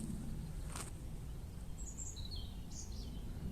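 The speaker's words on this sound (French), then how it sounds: "les oiseaux chantent" Small birds chirp in a few brief, high, scattered calls, faint and distant over steady low background rumble.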